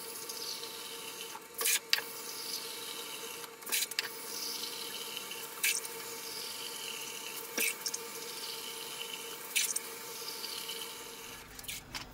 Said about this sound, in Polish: Gdzieś jakieś 3/4 tego garnka to napełnimy wodą